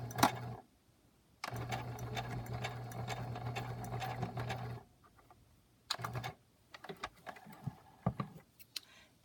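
Sewing machine stitching a lace pocket onto a journal cover in a few bursts: one long steady run with motor hum and needle chatter, then shorter stitches and scattered clicks between quiet gaps.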